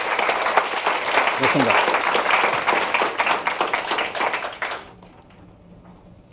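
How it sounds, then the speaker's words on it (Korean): An audience at a forum applauding, with steady, dense clapping for about five seconds before it dies away and a voice briefly speaks over it. "우리가 힘찬 박수와 함께 한번 시작해 볼까요?"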